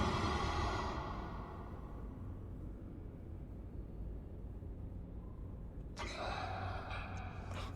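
Eerie, creepy breathing from the Outer Wilds game, a low hollow rush that swells and fades in long slow waves over a constant rumbling drone, with a brighter hissing inhale cutting in near the end.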